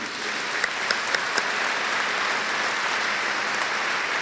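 A crowd at a transport company's inauguration ceremony claps steadily in a room, with a few sharper nearby claps standing out early against the even wash of applause.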